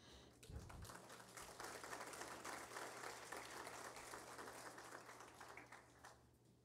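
Applause from a seated audience at a formal solemn session greets a band, a steady, fairly quiet spread of clapping that continues for several seconds and softens near the end.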